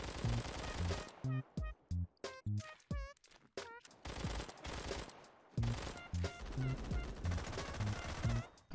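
Rapid automatic gunfire from the video game Phantom Forces, loud bursts of shots chattering in quick runs with short gaps between them, followed by further sustained firing.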